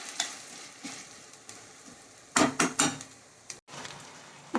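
Onion, ginger and garlic sautéing in a pan for a raw-banana curry: a soft, steady sizzle with a few louder bursts of stirring and utensil scraping midway, no talking.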